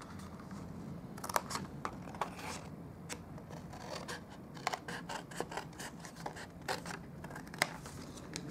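Scissors or a blade snip through paper cardstock while crafting a gift card and box, a run of sharp, quiet clicks and rasps spaced irregularly over a soft background hiss.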